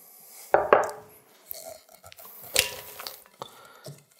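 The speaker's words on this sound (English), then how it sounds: "I'm going to put this in a nice big bowl." Freshly mandoline-sliced cucumbers tumble into a large bowl for a summer salad, giving a few soft, close clattering and clinking knocks against the bowl, with a sharper tap midway and quiet scraping between, no talking.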